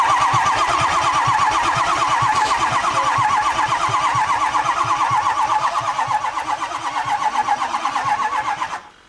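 Ford 6.0 Powerstroke diesel cranking over on the starter without catching, a loud steady rhythmic churning for several seconds that slows and cuts off, with no talk.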